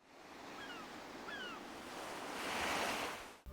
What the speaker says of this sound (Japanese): 環境音は海にしておきます。